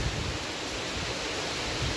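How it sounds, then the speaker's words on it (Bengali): Heavy monsoon rain falls outdoors in an open area with a dense, steady broadband hiss that stays even and continuous throughout, with no voices. "আবার মাঝে মাঝে এরকম বৃষ্টি হচ্ছে। কি অবস্থা দেখো বৃষ্টিতে।"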